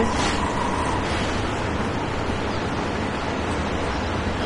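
A switched-on air conditioner blows cool air in a constant, fairly loud broadband whoosh that stays even for several seconds, with no voices.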